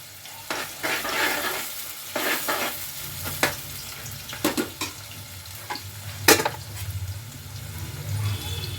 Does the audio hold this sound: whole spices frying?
yes